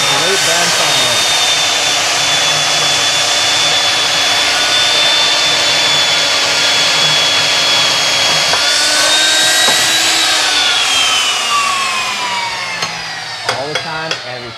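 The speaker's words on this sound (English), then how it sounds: "It's just nice to hear a bandsaw going." A bandsaw hums loud and steady at close range, holding one even motor whine for most of the stretch before pitch and tone shift, followed by a few sharp knocks near the end.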